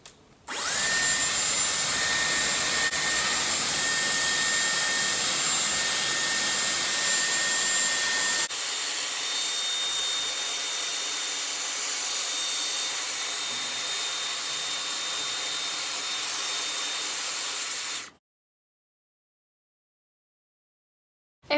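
A Dyson Airwrap hair styler runs as a steady, loud, close blowing whine for about eighteen seconds, shifting slightly in tone partway through, then cuts off abruptly into silence.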